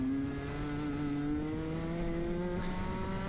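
A Rotax-engined racing kart drives on track in a Restricted Masters heat, its engine a steady, loud, continuous drone with a slowly rising pitch and no pauses.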